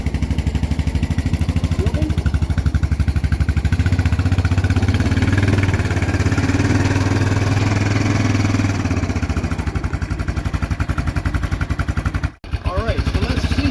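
A Yamaha Big Bear ATV fitted with a homemade plow idles steadily with a low, even engine rumble, continuous and close throughout, easing slightly near the end.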